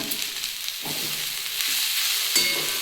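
Water spinach (kolmi shak) with nuts frying in a pan: a steady, close sizzle runs throughout, with a few soft stirring scrapes of a spatula against the pan, no talk.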